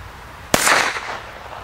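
A single sharp bang from a Great Bang friction-ignited firecracker bursts out of quiet, followed by a brief crackling, hissing tail that fades over the next second.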